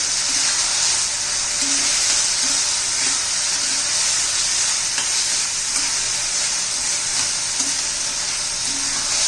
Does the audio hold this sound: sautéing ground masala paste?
yes